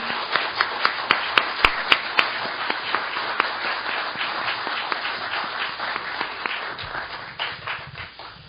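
An audience at a 2014 National Assembly event in Korea applauds to welcome member of parliament Kang Dong-won, with sustained dense clapping and some louder, sharper claps early on before it gradually thins out.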